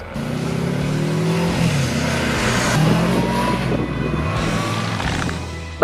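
A Yamaha VMAX 1700 motorcycle engine revs and pulls hard, its pitch climbing steadily through the gears amid loud, rushing wind noise.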